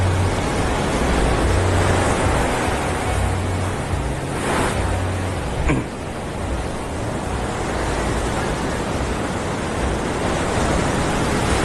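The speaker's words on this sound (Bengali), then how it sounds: "ওয়েদারটার জন্য না পুরো উত্তাল হচ্ছে সমুদ্র পুরো।" Rough, stormy sea surf at Anjuna Beach in Goa, a constant loud wash of breaking waves with a brief surge midway and no speech.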